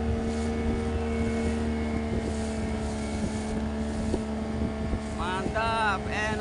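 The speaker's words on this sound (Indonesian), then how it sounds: "Enak sekali laju bootnya." A boat cruises at sea off Karangasem, Bali, heading east toward Labuan Bajo, its engine holding a steady close drone with wind buffeting the microphone and a few brief chirping sounds near the end.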